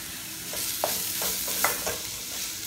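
Curry leaves frying in hot oil while being stirred, a steady sizzle broken by several sharp scraping stir strokes and small pops, close and clear with no voices.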